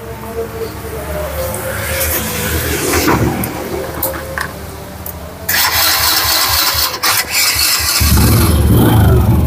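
A classic motorcycle engine starts and settles into a steady running idle, loud and close, with a louder, rougher burst of revving toward the end.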